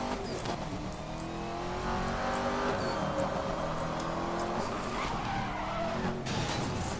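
A Bugatti Veyron in the video game Need for Speed Most Wanted drives hard, its engine droning steadily while tires skid and squeal in long sustained slides, loud and continuous throughout.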